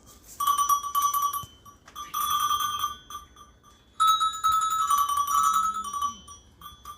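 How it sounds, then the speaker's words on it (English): A handbell rings out in separate bursts, each a bright metallic peal with long harmonic ringing, three clear rounds with short quiet gaps, close and loud at an outdoor woodland wassail gathering. "Let's do ring the bell every 10 seconds."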